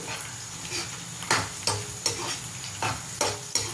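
Two onions fry in oil in a pan, a low steady sizzle broken by several sharp scraping strokes of a spoon stirring at an uneven pace, close and moderately loud, without speech.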